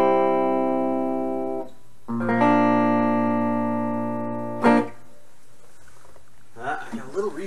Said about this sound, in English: I got a little reverb on there.